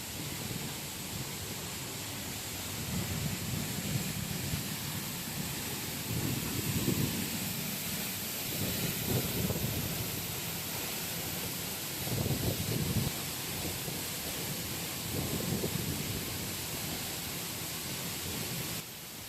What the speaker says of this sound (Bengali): ঝর্ণা থেকে যে পানির স্রোত নামছিল